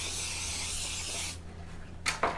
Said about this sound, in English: go ahead and spray this pan. This is Baker's Joy.